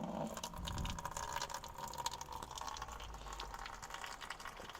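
Fresh water from a homemade rain catchment system pours and splashes into a container with a soft, steady gushing, faint and continuous throughout.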